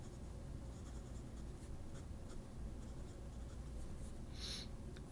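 An Aurora Talentum fountain pen, black with gold trim and a 14 karat medium nib, scratches steadily across paper, faint and close, with no talk over it.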